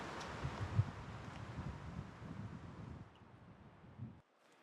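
Wind gusts rumble against the microphone in a low, steady rush while hiking in Finland, fading abruptly near the end.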